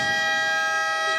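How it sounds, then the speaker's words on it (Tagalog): A long, steady electronic game horn blares loudly for over a second at a professional basketball game in an arena, a sustained buzzing tone with no voices. "And a long horn."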